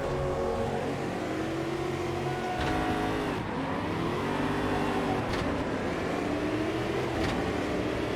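Race car engine in the sim racing game Automobilista 2, a paddle-shift car, revving hard throughout with rising and falling pitch through gear shifts, loud and continuous with no talk.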